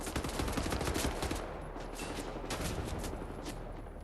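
Rapid, dense gunfire from the shooter game Wolfenstein: The New Order, loud and continuous at first, then settling into sustained, slightly lower bursts of automatic fire throughout.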